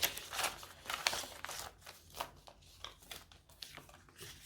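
Paper banknotes rustled and shuffled by hand while being sorted into budget envelopes, a run of close, crisp crinkles and flicks with short pauses and no talk.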